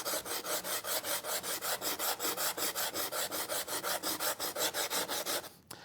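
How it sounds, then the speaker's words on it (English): Sandpaper rasps steadily against the edge of a waterstone slipstone being reshaped, a rapid, even back-and-forth scrubbing rhythm of about five strokes per second, close and continuous, then stopping. "So what I can do is take some sandpaper."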